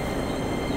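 A Keikyu Line train pulls into platform 2, giving a steady, fairly loud broadband rumble of wheels and motors that holds even across the short span, with no voices.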